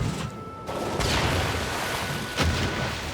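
Naval torpedo attack in the strategy game Civilization VI, heavy booming impacts and crashing blasts over a sustained rumble, with a sharp loud hit near the end.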